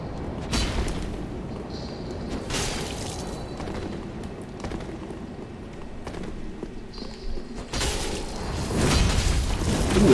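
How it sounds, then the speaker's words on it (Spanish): Pyromancy explosions in Dark Souls 3 PvP combat, several loud bursts with low rumbling tails, one early and a bigger cluster near the end, set over quieter thuds and footsteps. "La explosión llega un montón de las piromancias esas"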